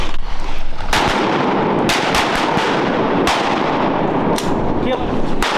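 Shotguns fire repeatedly during a mallard hunt in flooded Arkansas timber, with loud, sharp blasts in quick succession over constant wind and water noise.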